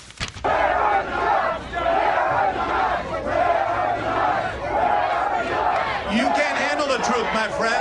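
A Boston crowd yells loudly at David Axelrod, a dense, sustained roar of shouting voices and chanting that holds from start to finish and rises again near the end.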